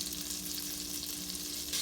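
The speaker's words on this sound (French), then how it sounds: "Dans une grande casserole, je fais fondre la margarine" Margarine melts and sizzles over high heat in a large pot, a steady close frying hiss with a faint background hum, no voices, as the start of a spinach soup.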